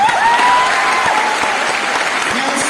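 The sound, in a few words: audience applause for teachers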